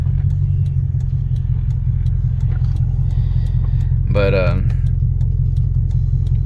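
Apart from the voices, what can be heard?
car with Toyota 1UZ-FE engine accelerating on the road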